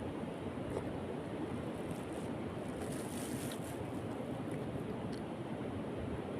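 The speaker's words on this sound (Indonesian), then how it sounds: "Kataku suara ombak doang." Steady ocean surf rushes continuously, a broad roar of waves with wind noise over the microphone, no voices.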